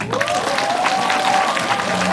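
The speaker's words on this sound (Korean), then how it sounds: "여러분 모두에게 박수 부탁드립니다." A crowd at a book launch event claps steadily in sustained applause, loud and close, while a voice rings out over it.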